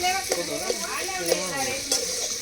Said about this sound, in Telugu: ఉల్లిగడ్డ మిరపకాయలు గోలినాక మంచిగా వేగినాక